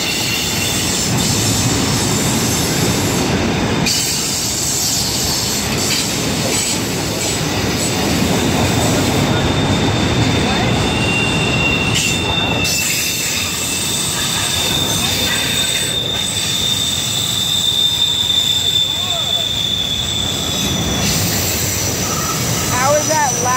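Fast freight train with Burlington Northern and CSX locomotives rolling past in Roseville: loud continuous rumble with squealing wheels and clickety-clack over the whole stretch, close to the tracks; a voice speaks briefly over it.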